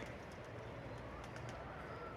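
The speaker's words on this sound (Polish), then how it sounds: "Zaraz mu wypuszczę gołębie na dach." Faint high-flying pigeon coos drift over a steady low rumble of background noise, no voices.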